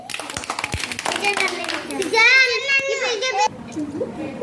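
A class of children claps in a quick burst of overlapping hand slaps mixed with excited kid voices, close and lively, after a teacher's brief words.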